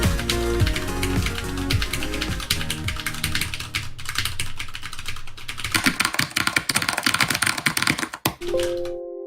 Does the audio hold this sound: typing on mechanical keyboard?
yes